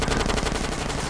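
Rapid automatic gunfire during a drive-by in the video game GTA San Andreas, a continuous fast rattle of shots, loud and close throughout with no speech.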